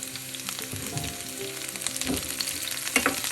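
Curry leaves crackle and sizzle in hot oil with chopped shallots for a green chilli yogurt curry, a steady close frying hiss with brief stir scrapes and pops.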